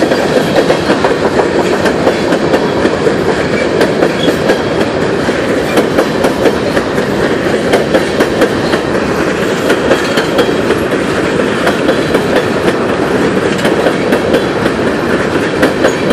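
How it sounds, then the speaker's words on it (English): A CSX freight train led by locomotive 391 rumbles past steadily and loudly in Charlottesville, Virginia, wheels clacking rhythmically over the rails with a constant heavy roar and no talking. "I wonder what train this is"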